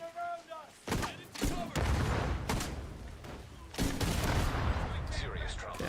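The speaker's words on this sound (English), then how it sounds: "Two shots." Gunshots in The Division 2 video game: several sharp cracks ring out among heavier rumbling blasts, close and loud, with voices talking underneath.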